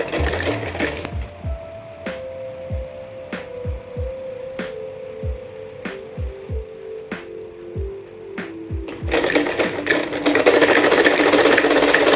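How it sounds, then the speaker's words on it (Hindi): Sewing machine stitching fabric sleeves, running in short repeated bursts with a steady motor hum and rhythmic thudding, then a louder, continuous run near the end. "फोल्ड करके सिलाई लगाएंगे"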